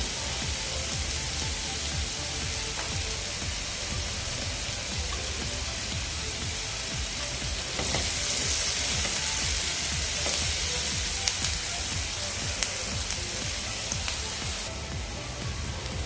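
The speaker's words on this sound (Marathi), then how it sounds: "इथे कांदा आपला व्यवस्थित फ्राय झाला आहे" Chopped onion frying in oil in a pan for egg tawa masala, a steady, even sizzle throughout that grows a little louder and brighter partway through, with no talking.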